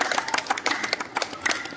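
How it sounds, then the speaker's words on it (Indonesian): Classroom applause for a student group, a burst of many hands clapping together in a quick, uneven patter, fairly close and lively, without speech. "Beri semangat tepuk tangan untuk teman-teman"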